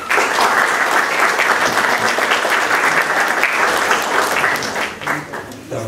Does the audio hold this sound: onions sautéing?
no